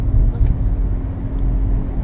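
Road traffic rumbles steadily through the night in Dubai Marina, a continuous low drone of passing cars with murmuring voices mixed in.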